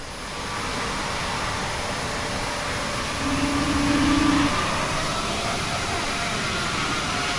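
An Airbus A220 jet engine in Microsoft Flight Simulator 2020 whines and roars steadily, then its pitch and loudness rise partway through as it spools up during engine start, with no voices.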